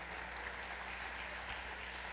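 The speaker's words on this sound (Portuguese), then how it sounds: "Vamos dar uma salva de palmas a Jesus para essa família linda." Congregation clapping in a church service honoring mothers, a steady, dense wash of applause from many hands throughout, moderately distant with no speech over it.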